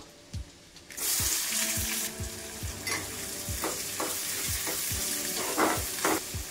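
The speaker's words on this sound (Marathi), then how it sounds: "कांदा आपल्याला छान परतून घ्यायचा आहे लाल रंगावरती" Onion sizzling loudly in hot oil with garlic and cumin for a Marathi-style potato sabji, with repeated scraping stirs of a spoon in the pan over a steady frying hiss; no talk.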